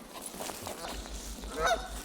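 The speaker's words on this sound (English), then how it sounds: "So Canada geese are very territorial." A Canada goose honks a couple of times over faint outdoor background noise on a Gulf Islands shore in British Columbia, the last honk louder and closer.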